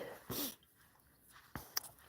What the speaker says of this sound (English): I think he has a dog there.